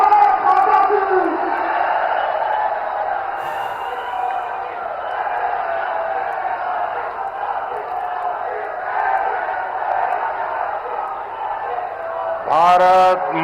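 A large outdoor political rally crowd in Kanpur, Uttar Pradesh cheers and shouts in a continuous loud roar, with whoops rising and falling and a voice over a loudspeaker near the end.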